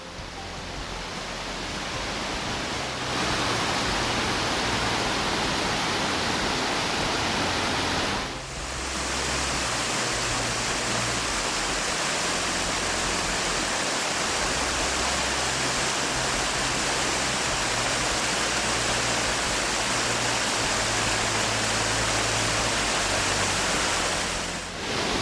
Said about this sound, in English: enjoy this 120-foot cascading waterfall